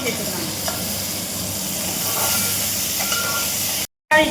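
Chopped tomatoes frying in hot oil with small onions in a pan for a South Indian recipe, a steady close sizzle with scraping stirs of a spoon, no talk.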